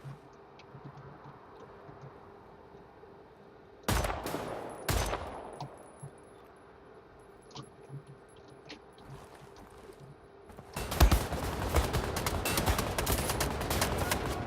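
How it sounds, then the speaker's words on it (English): Gunfire in Wolfenstein: The New Order during a train sequence: two loud, close blasts a second apart, scattered quieter shots, then a dense sustained burst of rapid fire over the final few seconds. "I need to shoot him in the head to kill him in one shot."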